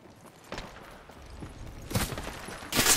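Gunfire in the Apex Legends video game: a few scattered shot bursts building in loudness, with the heaviest firing near the end.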